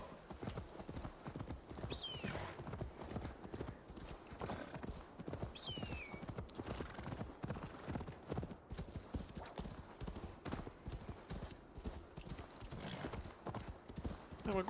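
Rapid rhythmic hoofbeats of a galloping horse in Assassin's Creed Valhalla continue throughout, with a couple of high whinnies and a voice talking underneath.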